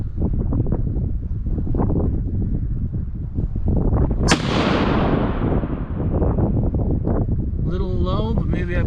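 A single loud Ruger 77 Ranger rifle shot rings out midway, with a sharp crack and a long rolling decay outdoors, over steady wind noise and a faint voice near the end.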